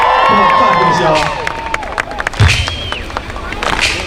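Crowd clapping and cheering at a Savannah Bananas baseball show, heard under a loud voice at first, then as scattered claps, shouts and cheers from many people as the talk fades.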